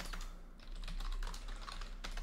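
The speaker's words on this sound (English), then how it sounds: "So let's type something into the bar." Typing on a computer keyboard, a quick run of soft, close key clicks in an irregular rhythm, with a short pause partway through.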